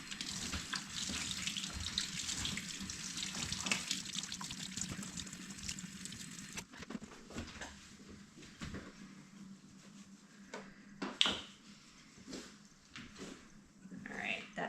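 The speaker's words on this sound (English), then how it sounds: "Rinse out the refractometer." Tap water runs steadily into a sink while a refractometer is rinsed during home mead brewing, the flow later turning to scattered splashes and drips, with a voice speaking over it.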